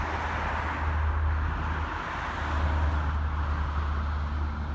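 A car reverses slowly into a marked rectangular parking space on a driving course, a steady low engine hum and faint road noise continuing evenly throughout.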